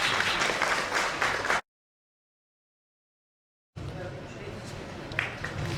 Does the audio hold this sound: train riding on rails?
no